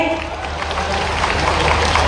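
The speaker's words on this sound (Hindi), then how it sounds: "एक बार जोरदार ताली मोहन जी के लिए भाई।" A crowd at a tribal student encouragement ceremony in Khandwa claps for Chief Minister Mohan Yadav. The applause is a dense, steady patter that holds at an even level, with a voice over a loudspeaker speaking on top of it.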